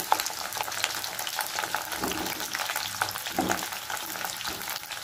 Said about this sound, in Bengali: প্রথমে আমি পটলগুলো একটু ভেজে নেব